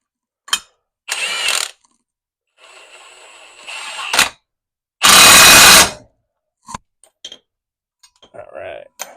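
A ratchet or torque wrench tightens rear axle leaf spring bolts, heard as short clicking mechanical bursts and a couple of longer grinding passes separated by silence, close and fairly loud, with a brief loud rush in the middle.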